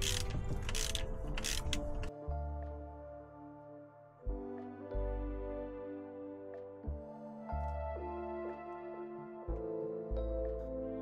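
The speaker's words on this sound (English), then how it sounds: "remove alternator cable nut and washer." A wrench ratchets on an alternator cable nut during car engine work, giving a steady series of mechanical clicks and grinding turns in repeated strokes, close and fairly loud with no talking.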